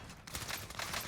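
Gunfire in the Warzone video game, a rapid volley of faint, distant shots in quick succession over about a second, with no voices.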